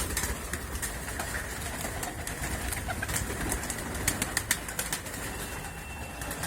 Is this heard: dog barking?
no